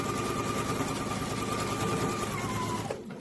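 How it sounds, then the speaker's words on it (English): A sewing machine stitching two fabric triangles together for a hexagon quilt, a close, steady rapid whir that runs evenly and then stops abruptly near the end. "I'm just going to be able to sew two of the triangles together"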